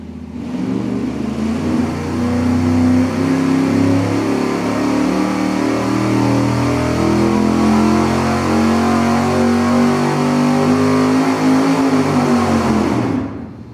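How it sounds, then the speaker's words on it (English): A 383 engine on a dyno revs through a steady acceleration pull at 300 RPM per second, its loud roar rising in pitch smoothly for about twelve seconds before dropping off abruptly at the end. "we're going to do a regular straightforward dyno pull as we always do at an acceleration of 300 RPM per second"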